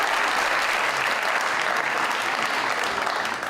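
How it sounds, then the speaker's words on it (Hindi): Studio audience applause on a television talk show, a loud continuous burst of clapping that stays even throughout with no speech over it. "तालियां आनी चाहिए इसके लिए।"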